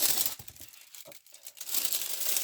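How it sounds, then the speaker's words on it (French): Plastic packaging wrapped around a canvas is unwrapped with close, steady crinkling and tearing that dips briefly midway, then resumes. "la toile, elle est emballée dans un plastique"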